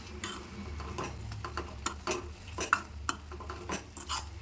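Meal maker chunks are stirred into a tomato and onion masala gravy in a pan, with soft scraping and occasional clinks of a spoon against the metal amid a faint sizzle, close and quiet.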